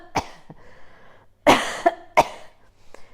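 Several sharp coughs in an irregular series, close and loud, with short quiet gaps between them and no talk.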